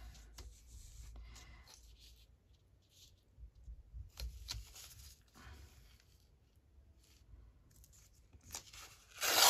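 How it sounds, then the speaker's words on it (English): A junk-mail paper envelope being torn by hand in a few short ripping bursts, close and fairly quiet, with soft rubbing and handling in between and no talking. "So I need to tear it there."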